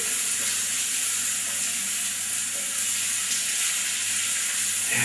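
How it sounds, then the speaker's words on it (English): Black mustard seeds fry in a pan while being stirred, giving a constant, close, bright sizzle with crackles mixed in and no voices. "you can hear the mustard seeds popping"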